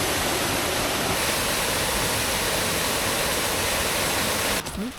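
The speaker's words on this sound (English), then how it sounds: "Coming up on our second waterfall of the day." A waterfall along Seneca Creek rushes with a loud, steady broadband roar that stays constant and close, dipping slightly only at the very end.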